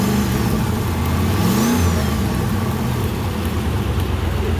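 A turbocharged 1000 HP LS1 Trans Am engine revs hard while driving, its loud, steady roar rising and falling once near the middle, with turbo whine above the deep rumble and no talk.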